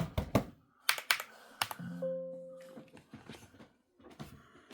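Typing on a Redragon Trundle RGB mechanical keyboard with sound-absorbing foam, sharp clustered key clacks in irregular bursts, close and alone, with a brief sustained tone in the middle.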